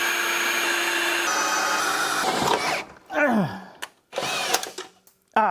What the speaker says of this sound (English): Now let me drill some holes and hold it in place with riv nuts.